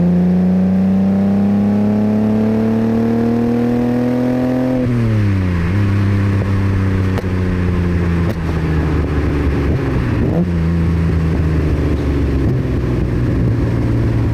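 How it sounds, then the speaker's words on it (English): A 1965 Ferrari 330 GT 2+2 with a Colombo V12 engine revs up loudly and climbs in pitch, shifts gear with a brief dip, then pulls hard again, close and sustained. "Shall we let that glorious Colombo V12 stretch its legs again?"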